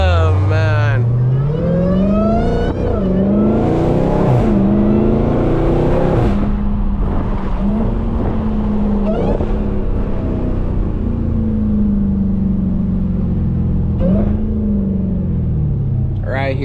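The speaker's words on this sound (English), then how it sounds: "There's a reason it whines more than a stock Hellcat." Dodge Charger SRT Hellcat with more supercharger whine than stock, revving on a street in repeated loud rising and falling pulls with a strong high whine over the engine roar, a voice talking over parts of it.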